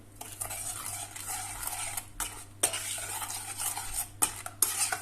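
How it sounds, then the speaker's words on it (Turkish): Spoon stirring a semolina pudding mixture in a pot just after water was added, scraping and clinking in repeated close strokes with a few sharper knocks against the pan, no voices. "Karıştıralım."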